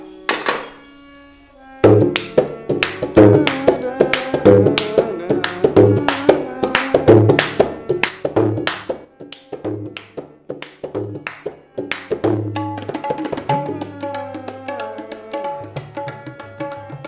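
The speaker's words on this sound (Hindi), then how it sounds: "डब की आवाज।" A daf frame drum played in a devotional Sitaram chant setting, with a steady run of loud, close hand strikes and ringing tones, a brief quieter lead-in before the rhythm kicks in, then softer sustained tones near the end.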